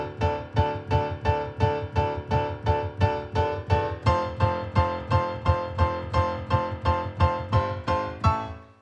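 Piano chords struck hard and evenly on every beat, a steady pounding rhythm with a low bass note under each chord, ending on a ringing final chord.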